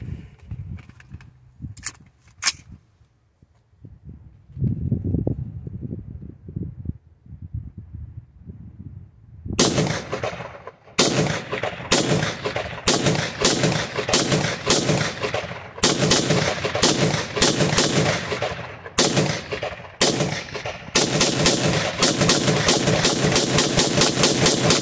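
A 5.56 rifle firing 75 grain boat tail hollow point rounds at pumpkins outdoors: a few sharp shots at first, then a long rapid string of loud, evenly spaced cracks that ring out with echo.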